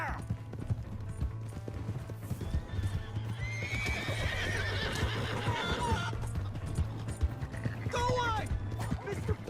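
A horse in the video game Red Dead Redemption 2 whinnies loudly over a steady, rhythmic clip-clop of hooves, the neighs rising around the middle and again near the end, with people shouting over the action.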